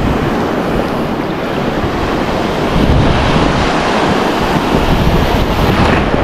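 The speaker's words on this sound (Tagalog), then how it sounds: "Ang lalaki ng alon!" Big ocean waves roar and crash continuously on a sea fishing outing for wrasse, with steady wind buffeting the microphone and a broad, loud wash of surf throughout.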